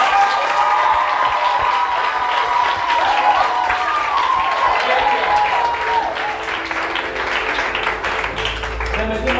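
A church congregation applauds and cheers in praise of the Lord, producing sustained, dense clapping across a full room. A voice carries over the crowd throughout.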